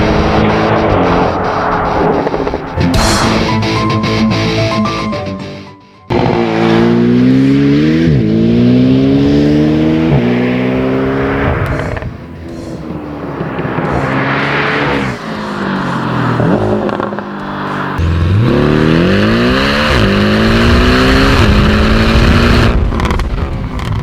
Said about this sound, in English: So get down to the business of driving the Cayman enthusiastically.